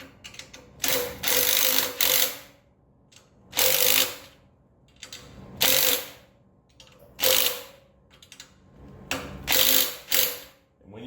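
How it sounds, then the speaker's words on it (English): A ratchet tightens a U-bolt on the frame of a 40-year-old Coleman generator, with bursts of rapid clicking repeated about six times with short pauses between, close and clear. "Tighten down on the U-bolt, make sure you go, you know, back and forth from side to side"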